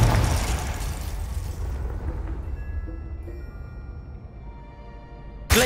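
A Confringo fire spell blast from Hogwarts Legacy opens loud with a broad booming burst, then decays into a rumbling tail with faint magical tones, and a second sharp burst hits right at the end.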